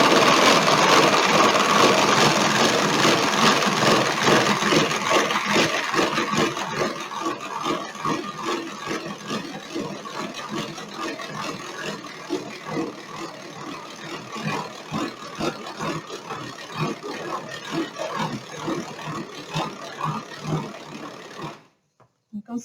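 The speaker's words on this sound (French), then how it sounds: "je vais mettre mes 100 g de blanc d'œuf dedans et je vais les monter en neige tout simplement" A Speedy 2 electric hand mixer on its first speed whips 100 g of egg whites for macarons, with a steady close whirring drone and a fast rhythmic beating texture that runs continuously.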